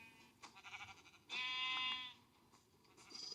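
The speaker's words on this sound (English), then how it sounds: "There's a sheep on the loose." A sheep in Minecraft gives a single drawn-out bleat, loud and clear. Softer short game sounds come before and after it, and no voices are heard.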